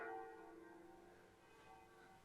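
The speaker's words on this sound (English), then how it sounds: "I can hear the church bells of the cathedral." Cathedral church bells ring somewhere in Tuscany, their tones faint and distant, sustained and softly overlapping as they fade.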